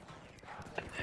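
Horse hooves clip-clop at a walking pace in the World War I shooter game Battlefield 1, a soft close rhythm of steps over a faint background wash.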